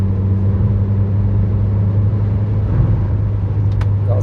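A Ford C-Max with a software tune, held at full throttle in fourth gear, gives a loud, steady engine and exhaust drone. A deep, constant hum persists with no pauses and no voices.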